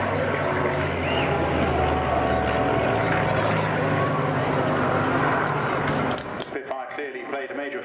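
A propeller aircraft once used for glider-towing in Germany flies past at the Torbay Air Show, a steady droning engine roar sustained under a commentator's voice before fading near the end.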